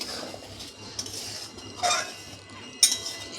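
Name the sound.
stirring tamarind rice and prawn paste dish in pan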